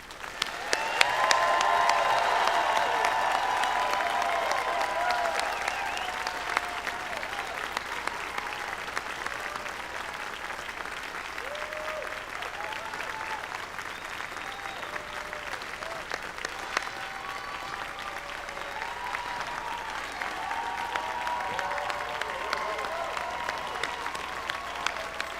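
Sustained audience applause for graduating law school classes of 2020 and 2021 at a ceremony, steady dense clapping across the whole span with scattered cheers, loud and full with no speech over it.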